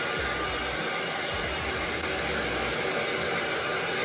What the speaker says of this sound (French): je vais quand même passer un petit coup de sèche-cheveux